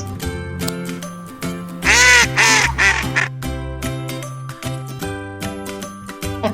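A duck quacks a few times in the middle, the calls short and loud, standing out over a steady background of light tinkling music with no talking.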